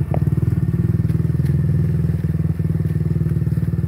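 A motorcycle ridden by a beginner learning to ride chugs close by in a rapid, even engine pulse, dipping briefly before returning to a steady putter.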